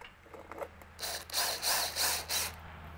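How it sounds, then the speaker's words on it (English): A 30-year-old Stanley garage door opener is screwed into a sheetrock wall, with a few soft ticks followed by four loud, close whirring bursts from a driver in a steady rhythm. "I'm gonna go ahead and get this thing screwed into the wall here"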